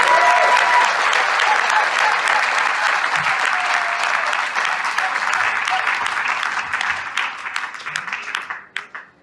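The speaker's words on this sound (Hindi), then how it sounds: "एक बार जोरदार तालियां।" An audience at a business seminar applauds loudly and continuously for several seconds, then the clapping thins into scattered claps and dies away.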